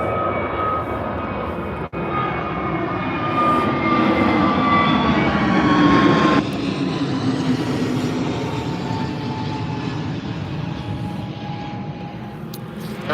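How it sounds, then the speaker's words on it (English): An airplane takes off at Birmingham Airport, its engine roar building steadily and loudly, then holding as a broad, continuous rumble with a sweeping whine for the whole stretch, with no talk over it. "And here's our next takeoff."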